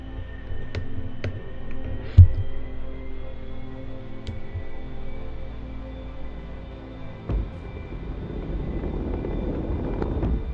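Aircraft engine in the DCS flight simulator, a steady droning hum with a few clicks and thumps, the engine note rising and growing louder toward the end.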